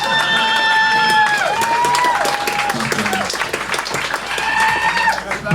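An audience at a live comedy show bursts into sustained applause and scattered cheers, loud and close, while a tonal sound slides over the top and a voice talks through parts of it.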